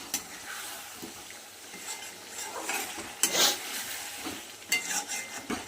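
Chicken and papaya curry being stir-fried with chicken masala, with a spatula scraping and knocking against the pan over a low sizzle. Close and intermittent, with a few louder strokes and no talk.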